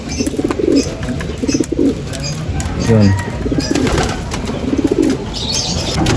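Racing pigeons coo in low, throaty repeated phrases close by, with a person talking over and between the calls.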